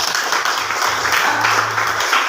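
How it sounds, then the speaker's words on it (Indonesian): An audience at a talk on online selling and payment gives a steady round of clapping, fairly loud and even across the whole stretch, with a low hum underneath. "Berikan tepuk tangan."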